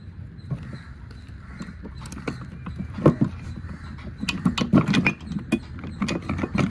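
Metal parts clink, scrape and knock as the gear assembly comes out of a Suzuki Baleno gearbox, irregular close clatter over a low workshop rumble, busiest toward the end.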